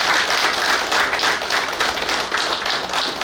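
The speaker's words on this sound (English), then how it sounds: "May we give him a round of applause." Applause fills a hall at a naval war college graduation, many hands clapping steadily and loudly from start to finish with no talk over it.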